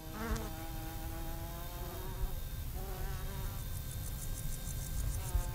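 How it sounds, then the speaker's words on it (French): Wild bees fly around nest boxes set beside fields, a faint continuous buzzing hum with shifting pitch as individual insects pass close, over quiet outdoor background. "Le vol des abeilles va être scruté grâce à des caméras."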